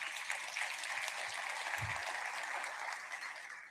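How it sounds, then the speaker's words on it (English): Audience applause at an awards luncheon for a Goodwill organization, a dense, even wash of many hands clapping that holds steady throughout, heard from a distance in a large room. "Another round of applause for Palmetto Goodwill."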